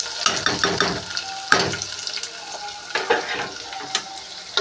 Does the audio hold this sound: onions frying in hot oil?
yes